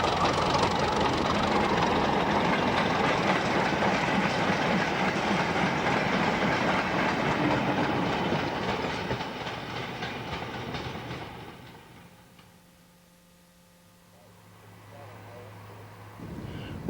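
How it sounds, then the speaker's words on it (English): A freight train worked by a visiting steam locomotive at a heritage railway's October gala rolls past with a steady rumble and clatter of wagons, loud for most of the stretch before dropping away to a low hum. "The new arrival worked the freight train at the October Gala."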